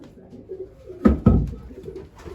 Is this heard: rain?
no